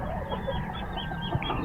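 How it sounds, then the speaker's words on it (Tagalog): A backyard flock of chickens clucks steadily in the morning, with many overlapping calls blending into a continuous, close-up murmur and no voices. "Papakita ko sa inyo ang aking mga manok sa umaga."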